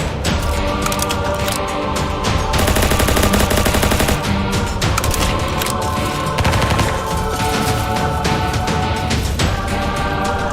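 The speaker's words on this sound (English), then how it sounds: "Oh, he's shooting at me with them." Sustained game gunfire from a boss firing at the player in The Good of the Company, dense rapid automatic bursts running loud and continuous over busy music-like clutter throughout.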